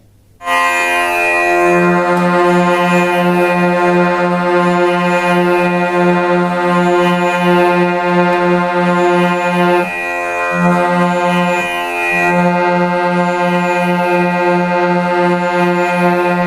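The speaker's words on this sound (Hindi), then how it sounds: "अब तानपुरे में हम चौथे सफेद का साउंड लगाएंगे" A sustained reedy harmonium note sits over a steady droning tanpura tuned to the fourth white key, loud and continuous with a slight pulsing; no voices.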